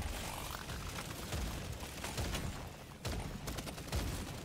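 The Warthog, an electric-damage weapon in the game Deep Rock Galactic: Survivor, fires fast bursts of thumping shots against a busy, steady background of in-game noise, with no voices heard.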